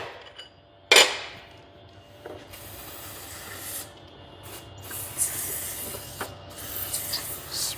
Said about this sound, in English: Spray that freeze off around.